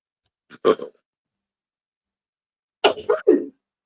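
A single close sneeze, followed after a pause by a brief burst of breathy vocal noise.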